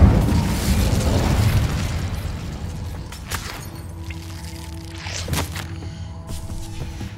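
Incendio fire spell cast in Hogwarts Legacy, a loud burst of roaring flame that fades into a quieter game ambience, with a couple of sharp magical pops and whooshes following.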